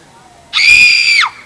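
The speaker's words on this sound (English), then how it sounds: "Scream for me." A person lets out one loud, high-pitched scream lasting under a second as part of a Robin Hood and Maid Marion themed game, ending with a falling tail.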